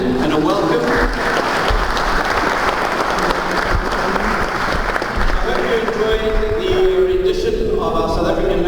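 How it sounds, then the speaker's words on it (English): An audience applauds at the opening ceremony of the Cape Town International Stamp Exhibition 2022, a dense, sustained wash of clapping that carries on steadily with a voice talking over it. "Please give yourselves a big warm hand and a welcome."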